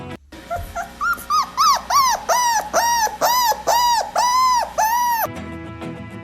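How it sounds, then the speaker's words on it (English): A dog gives a run of about ten loud, evenly spaced, high yelping barks, close and clear, with no other sounds around them. "Oh, that's a dog?"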